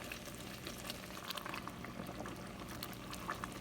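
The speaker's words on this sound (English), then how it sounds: "I'm not measuring, I'm just pouring. Okay, about a cup of heavy whipping cream." Heavy whipping cream is poured into a pot of simmering kale and sausage soup, giving a steady liquid rush over bubbling and sizzling, with no talk.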